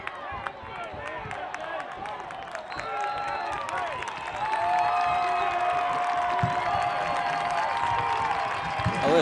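A college football crowd cheering for the North Greenville Crusaders in an NCAA Division II playoff game against Tuskegee, a steady roar that swells louder midway, with a commentator talking over it.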